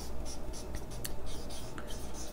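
Chalk or marker writing on a board during a class lesson, short scratchy strokes and taps in quick uneven bursts over a steady low room hum.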